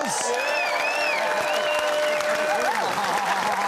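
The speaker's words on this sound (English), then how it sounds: "Give them a round of applause." A studio audience at the New Zealand comedy panel show 7 Days applauds a musical group, sustained full applause with crowd cheering and whoops, loud and continuous, with voices calling out above the clapping.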